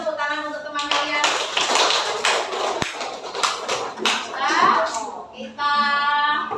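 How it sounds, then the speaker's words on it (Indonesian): Classroom of students clapping for their classmates, a dense burst of hand claps mixed with children's voices and tapping, fairly close and lively, with a few voices rising over the applause. "Berikan tepuk tangan untuk teman kalian."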